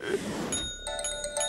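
Small bell ringing in a cartoon: a rapid series of about six bright, ringing dings after a short burst of noise, close and clear over a faint background.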